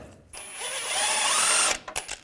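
A power tool whirs briefly for about a second and a half, removing an 18mm-socket bolt near the frame while replacing the 4WD actuator on a 2014-2018 GMC Sierra 1500 5.3L V8, close and loud, then stops with a few clicks.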